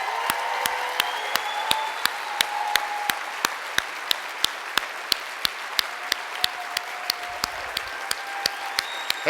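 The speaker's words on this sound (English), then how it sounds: "Please, a special round of applause for Christina Lewis." Audience applause at a real estate convention, a dense steady wash of clapping from a large crowd with sharp periodic clicks running through it, sustained throughout at moderate level.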